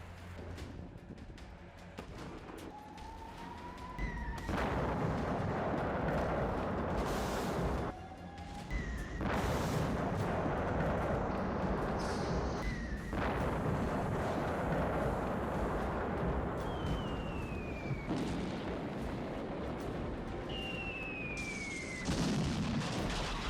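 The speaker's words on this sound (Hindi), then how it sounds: "यूक्रेन के प्रमुख शहर खार्किव पर लगातार मिसाइल हमले" Ballistic missile strikes hit the Ukrainian city of Kharkiv, a series of loud, heavy booming blasts and rumbling explosions echoing over several seconds, with whistling descending tones between impacts and no voices.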